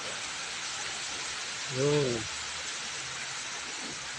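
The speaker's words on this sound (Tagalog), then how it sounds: "Ang lakas ng ulan dito sa Palau ngayon." Heavy rain in Palau makes a steady, dense hiss throughout, with a brief spoken word partway through.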